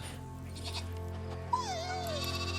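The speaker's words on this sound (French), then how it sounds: "Des agneaux de lait." Milk-fed lambs bleating, a single clear wavering bleat with a falling pitch near the end, heard over a low steady background hum with a few faint higher animal calls.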